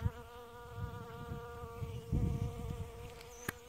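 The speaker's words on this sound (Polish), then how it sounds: "Nawet muchy zadowolone." Flies buzz close by around blooming crocus (saffron) flowers, giving a continuous droning whine that wavers slightly, over soft rustling and a faint click near the end.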